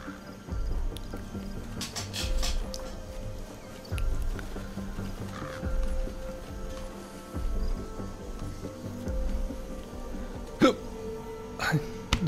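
Game character hiccuping in Metal Gear Solid 5: The Phantom Pain, with repeated short hiccups over a steady in-game ambient background, a few sharper spikes near the end.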